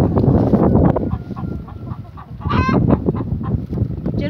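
Chickens and a rooster cluck and murmur close by in a backyard coop, a busy overlapping flock chatter with one sharper squawking call rising briefly in the middle.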